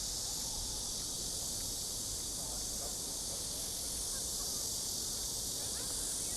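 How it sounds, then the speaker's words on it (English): Cicadas drone in a loud, unbroken high-pitched wash on the grounds of Gyeongbok Palace in Seoul, South Korea, a constant outdoor summer chorus with faint background activity beneath it. "Cicadas are singing right now."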